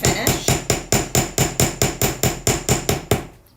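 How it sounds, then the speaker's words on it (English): Hand hammer striking metal items in a rapid, steady series of about fourteen loud, close, ringing blows, with no talking. "You guys know I like to hammer"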